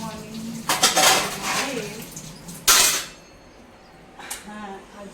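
Dishes and metal utensils clatter and clink in a home kitchen as they are washed, in a few loud bursts with quieter gaps between them and some background voices.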